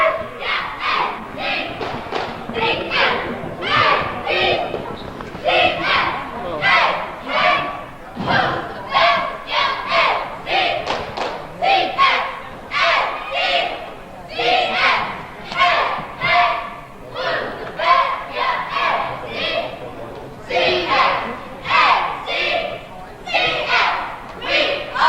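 High school cheerleaders chant in unison during a boys' basketball game between NCCS and Ticonderoga, rhythmic shouted cheers with thumping claps or stomps over steady crowd noise in a gym.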